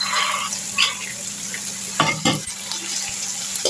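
Soaked chickpeas fry with onion and tomato in a pan, giving a steady close sizzle with a few stirring scrapes and no talk.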